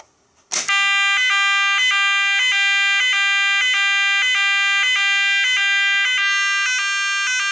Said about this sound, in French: pour voir si cette sirène, elle fonctionne bien